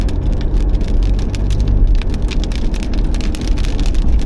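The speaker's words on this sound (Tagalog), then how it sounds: "Napatak ang ulan, oh." Heavy rain patters densely on a nearby surface on the Cavitex expressway in the Philippines, a steady drumming with sharp individual drop hits and a low rumbling background.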